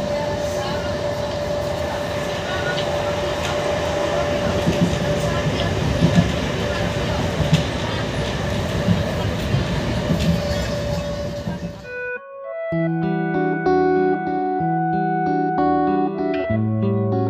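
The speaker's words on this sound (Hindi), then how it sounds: "आप देख सकते हो, अभी मैं ट्रेन में हूँ" Interior of a moving passenger train, a steady loud rumble with faint clicking of the rails and a droning tone, which cuts off after about twelve seconds and gives way to music.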